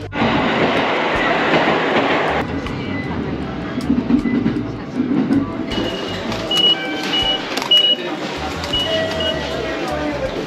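A clean Japanese train at a station, rumbling steadily with broadband rail noise throughout, some tonal squeals and clatter, close and loud, with people talking over it.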